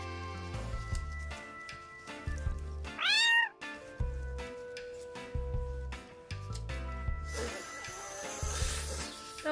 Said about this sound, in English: What are you doing, you naughty cat